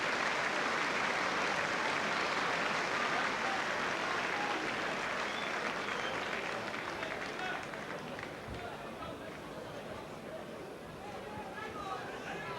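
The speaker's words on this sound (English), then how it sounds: "getting a good round of applause from the liners" A football crowd at a 1991 Leeds v Oldham match applauds with a dense, sustained patter of clapping that gradually fades over several seconds, with a voice talking over it.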